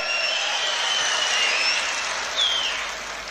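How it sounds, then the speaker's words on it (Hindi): A crowd claps loudly for Mann sahab at an AAP thanksgiving gathering in Doda, Jammu and Kashmir. Dense, steady applause holds for about three seconds with a brief swell near the end, then eases off slightly. "मान साहब के लिए जोरदार ताली बजा दें"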